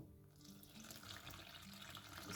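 Tap water running into a container, a soft hissing stream that swells slightly over a couple of seconds, quiet and close with no talking.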